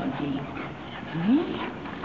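A pet dog gives a brief, high, soft whimper close by, while a person talks gently in the background.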